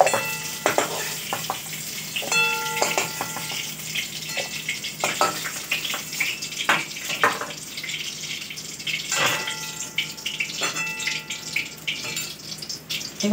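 Pointed gourd frying in hot oil in a home kitchen, with irregular crackling sizzles and bursts of spatter alongside clinks and scraping of a utensil in the pan.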